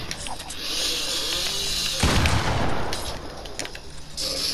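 A hand cannon fires in a video game, a heavy booming shot bursting out over dense, constant game noise and scattered clatter.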